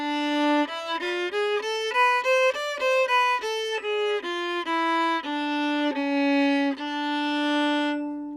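Solo klezmer violin plays a slow melodic line in the Mishaberach mode, a minor scale with raised fourth and sixth, bowed sustained notes with slides, close and clear with no talking.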